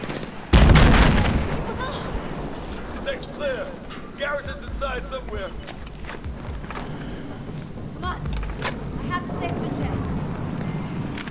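Gunfire in the video game Battlefield 4: a loud shot or blast right at the start, then scattered pops and crackling shots, with footsteps and game ambience continuing underneath.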